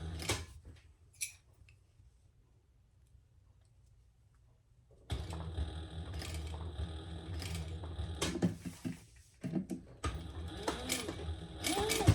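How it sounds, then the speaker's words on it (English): A sewing machine back stitching a quilt pattern: near-silence for about five seconds, then a steady mechanical whir with rhythmic clatter running loudly to the end, broken by one brief pause. "I'll just back stitch."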